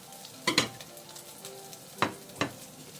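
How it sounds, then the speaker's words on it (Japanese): Meat sizzles quietly in a hot pan for a garlic-scape stir-fry, with a few clattering stirs and scrapes of a utensil spaced apart. "これは一回炒めてから肉は出すから"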